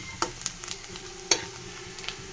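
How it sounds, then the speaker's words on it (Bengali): Onions browning in a frying pan for a vegetarian Malabar spinach and potato dish give a soft, low sizzle, broken by a few sharp clicks and scrapes of a spoon stirring them close by. "পেঁয়াজটা ভাজা ভাজা হয়ে গেছে, ব্রাউন কালার এসেছে।"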